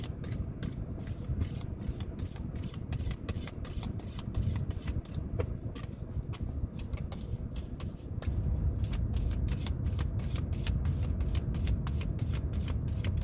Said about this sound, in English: I'm going to get some cards for your energies.